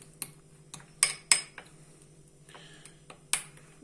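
A spoon clinks against a dish while a mixture with lemon is stirred, giving sparse, irregular taps of metal on crockery, a few louder and ringing, over a faint steady hum.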